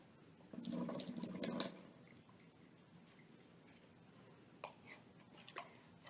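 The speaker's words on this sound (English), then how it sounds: "The next step is to simply dump the water out." Water is dumped out of a bowl of soaked paper squares, a brief close gush and splash lasting about a second, followed by quiet scattered drips.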